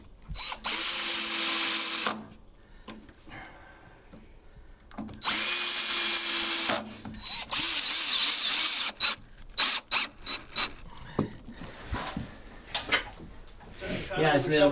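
A power drill drives screws to fit hinges onto a handmade wooden door. Several loud whirring bursts alternate with quieter gaps of people talking and clattering tool handling.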